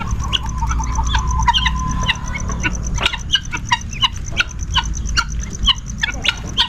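Noisy poultry calls, a rapid series of sharp clucks and gobbling bursts, close and loud, repeating irregularly over a low rumbling background.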